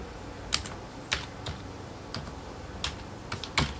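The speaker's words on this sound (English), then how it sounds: "I type in my first personal name, my last name, and my email address." Personal details typed on a computer keyboard: a quiet, close series of sparse key clicks and taps at an uneven pace, with short pauses between keystrokes.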